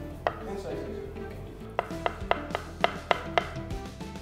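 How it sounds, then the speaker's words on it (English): A knife slices tofu thinly on a cutting board for Korean royal cuisine, giving about seven crisp taps spaced roughly a quarter to half second apart, close and fairly loud over faint kitchen background. "Now I'm gonna slice tofu, no thin slice."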